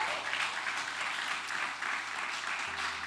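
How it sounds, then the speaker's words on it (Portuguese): A church congregation in Petrópolis breaks into sustained applause, dense and even clapping from many hands filling the room, steady for a few seconds without pause. "Você pode aplaudir mais uma vez ao Senhor?"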